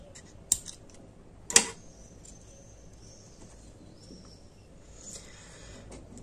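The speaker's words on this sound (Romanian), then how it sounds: "tai firul" Scissors snip crochet yarn with two sharp, close clicks about a second apart, followed by quiet handling and faint rustling.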